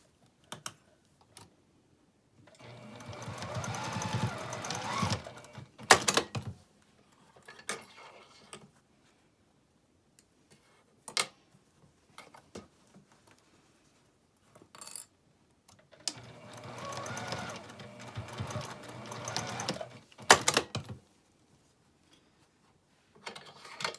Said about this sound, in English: So we'll just sew across the top.